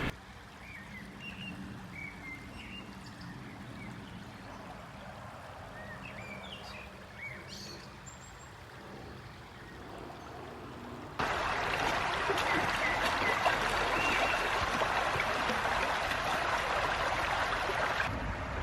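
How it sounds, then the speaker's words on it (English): The River Irk flowing through Chadderton Park in Manchester, a steady broadband rush of water with scattered bird chirps early on, growing louder and fuller about halfway through as if closer to the current. "You've joined me stood in the middle of the River Irk."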